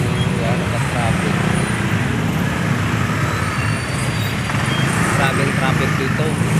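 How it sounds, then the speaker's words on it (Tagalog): Dense road traffic on a congested street in the Philippines, with a steady broadband roar of cars, buses and trucks rumbling close by and holding constant from start to finish, without spoken words. "Guys, yan ang traffic."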